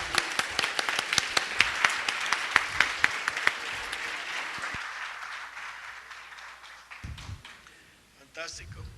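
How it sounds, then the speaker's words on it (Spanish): Audience applause after a talk at a panel discussion: a scattering of sharp, distinct claps early on, thinning out and fading to near silence, with voices speaking briefly near the end. "Y si les gustó mucho, pues muchos aplausos"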